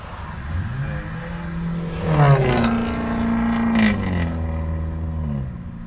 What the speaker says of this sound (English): That was a fucking Camaro.